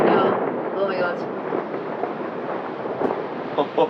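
Thunder rumbles through a tropical storm in Da Lat, Vietnam, a broad, rolling roar that continues for several seconds with some bursts near the end.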